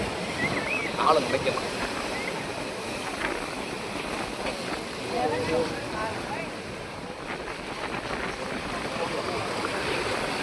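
Sea waves wash in at Kanyakumari beach with a continuous roar, mixed with gusty wind buffeting and people chatting close by.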